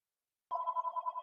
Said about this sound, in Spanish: Discúlpeme que me está sonando el teléfono.